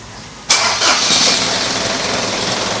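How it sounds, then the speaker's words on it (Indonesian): A car engine cranks and catches abruptly, then settles into a steady, close, loud idle with no talk over it. "Coba kita starter."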